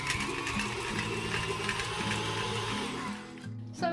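An electric mixer beating cream cheese for a large double batch of frosting, a steady whirring motor hum with faint rhythmic clatter, running close and alone before briefly dipping and revving near the end.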